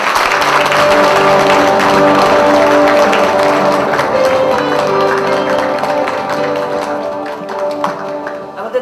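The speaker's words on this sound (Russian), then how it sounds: "Вика, бурные аплодисменты." An audience applauds warmly at a small congratulatory gathering, a sustained wash of many hands clapping near and loud over tonal background sound, thinning out toward the end.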